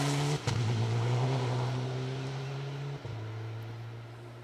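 A Mitsubishi Evo 9 rally car on a stage of the Malcolm Wilson Rally 2023 drones past with a loud, sustained engine note, a sharp gear change early and another near the end.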